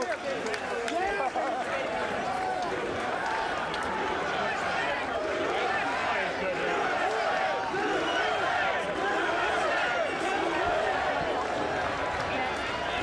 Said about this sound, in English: The chants of USA from the crowd here celebrating Jeff Lacy's victory